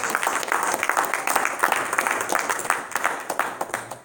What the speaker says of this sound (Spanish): Dele un aplauso a Jesucristo en esta noche.